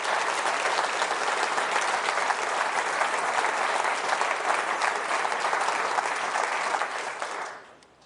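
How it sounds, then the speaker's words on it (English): Sustained applause from an audience at a political leadership speech, dense and steady clapping for about seven seconds before fading at the end. "I really cannot suffer seeing Dawn Butler here clapping along with this."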